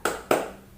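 A classroom of students claps hands twice in a quick double clap, two sharp close claps about a quarter second apart that fade into a short room echo.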